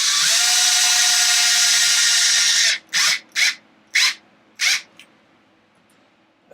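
A power drill whirs steadily for a few seconds while removing small screws from a Traxxas XO1 RC car, then stops and gives four short bursts, close and loud.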